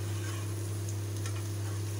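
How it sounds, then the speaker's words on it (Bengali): Cauliflower and potato fry in a pan, stirred now and then: steady close sizzling with a strong low hum beneath and faint scraping, no voices. "মাঝে একটু লাড়া দিয়ে নেবেন।"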